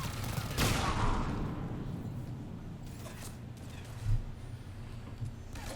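Gunfire in the Mass Effect 3 video game: a burst of shots near the start, then scattered fainter pops and a couple of sharper impacts over a low steady background, with no talk.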